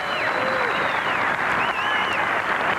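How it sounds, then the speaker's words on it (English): Crowd applause fills a bowling championship arena at the 1996 US Open, a steady, dense wash of clapping that holds for about three seconds without a break. "a very nice round of applause from the crowd for Marianne DeRupo"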